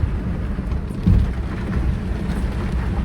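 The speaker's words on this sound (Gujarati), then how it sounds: "વરસાદ અત્યારે દરેક જગ્યાએ સંપૂર્ણ એક જ જેવો છે" Heavy monsoon rain falls steadily near a village bus stand, a dense close downpour with a low rumble beneath it and no voices.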